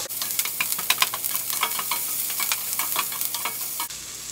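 Sliced onions frying in a pan for mutton liver gravy, a dense close sizzle peppered with quick crackles and light stirring, cutting to quieter hiss at the very end.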